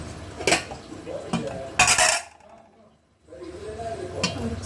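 Rice and curry being served onto a plate, with steel dishes and spoons clattering in several sharp bursts, a loud clang near the two-second mark, then a brief quiet before more scraping and clinking.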